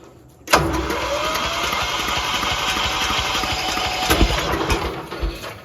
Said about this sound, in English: Yep, she may not turn over for it. Battery might be too weak.